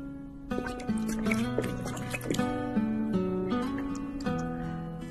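Warm water is poured over a handful of dried shiitake mushrooms to soak them, a steady, close pour with shifting gurgles and splashes.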